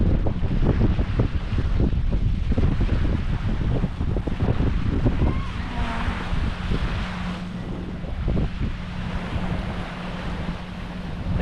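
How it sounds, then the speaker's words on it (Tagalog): Heavy wind buffeting the microphone in rough gusts at Baloy Beach, Subic Bay, Zambales, with a low roar of surf or water underneath and no voices. "Sobrang hangin."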